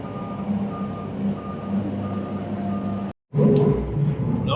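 Reversing alarm beeps steadily from a Manitou telehandler loading potatoes into a truck, repeating over a constant engine rumble, then a brief dropout followed by closer, louder machinery clatter.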